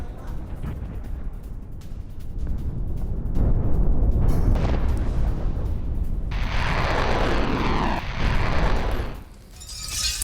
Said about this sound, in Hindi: 80 रॉकेट्स एक साथ इजराइल पर दागे गए हैं